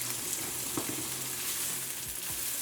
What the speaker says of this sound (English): oil is hot, go in with some sliced onions and sliced peppers